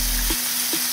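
Chilli mushrooms sizzle steadily in a hot pan just after red chilli sauce goes in, a close, continuous frying hiss with a few soft stirring scrapes.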